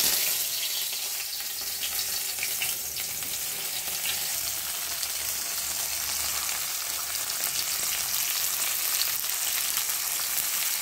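Okra frying in hot oil in a kadai, a steady close hiss of sizzling that holds evenly for about eleven seconds with no talking.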